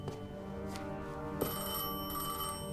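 A telephone rings in the video game Destiny 2, its bell-like ringtone repeating steadily over a dense, layered musical background with no talk.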